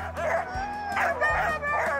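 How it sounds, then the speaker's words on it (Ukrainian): A Siberian husky barks and howls in a run of several close, loud, tonal yelps that rise and fall almost like singing. "коли вони гавкають, може здатися, ніби вони співають"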